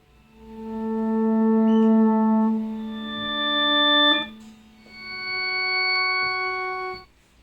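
FM synthesizer tones with a bright harmonic series; one sustained note, then another that swells in gradually through a slow attack instead of striking, ending in a smooth held tone.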